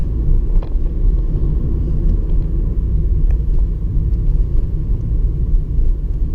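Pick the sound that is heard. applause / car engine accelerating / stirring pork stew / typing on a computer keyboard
car engine accelerating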